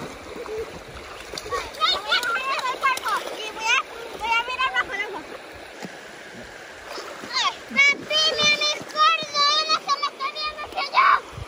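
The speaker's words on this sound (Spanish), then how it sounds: "La corriente del agua." A river current flows and splashes against stones beneath loud, overlapping children's and adults' shouting and chatter throughout.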